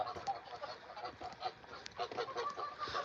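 Free-roaming domestic geese honk repeatedly in short, scattered calls at moderate distance, fairly faint, with some rustling and background noise throughout.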